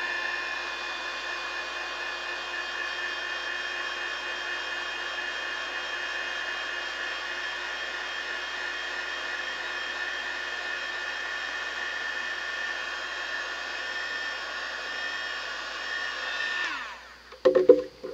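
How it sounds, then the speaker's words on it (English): A heat gun blows steadily for about 17 seconds to set a dark paint layer on a 3D printed action figure, a constant close-up whirring rush that cuts off near the end, followed by a brief clatter. "I'm using the heat gun for a sec to just get that layer to set"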